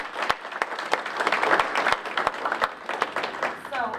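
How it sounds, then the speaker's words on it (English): An audience at a Cleveland CPC quarterly meeting gives a round of applause, a dense, fairly distant patter of many hands clapping steadily for several seconds. "So give yourselves a round of applause"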